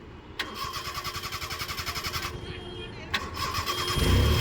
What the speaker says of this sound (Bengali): পুরো ক্লাচ করে স্টার্ট করুন